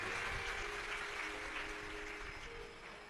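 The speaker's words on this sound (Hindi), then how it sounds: "एक बार इनके लिए जोरदार ताली बजाएं" Audience applause at a Shiv Mahapuran religious discourse in Beed, Maharashtra, a dense, steady wash of many hands clapping that slowly fades toward the end, with no speech over it.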